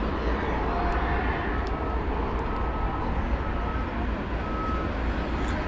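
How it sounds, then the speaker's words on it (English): An American Airlines Airbus A321neo spools up for takeoff at DFW Airport, a dense, steady jet engine roar with a faint high whine running throughout, constant in level and fairly close. "American Flight 1243 to San Diego. And Airbus A321neo next to liftoff."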